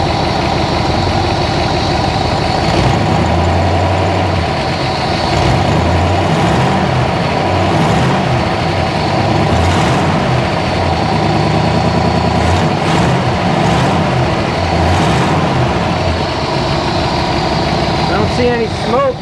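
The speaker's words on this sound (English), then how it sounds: "I don't hear any ticking other than the exhaust leak I can't fix" A 1955 Ford Y-block engine with bent push rods idles loudly and steadily nearby, its low rumble carrying a faint repetitive puffing from an exhaust leak, with someone talking over it at times.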